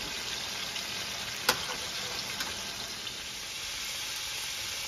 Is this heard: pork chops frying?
yes